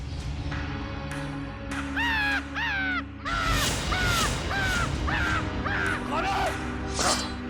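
A crow-like bird gives repeated harsh cawing cries as a mysterious call in a Hindi fantasy TV serial, several loud calls in close succession over a steady background drone.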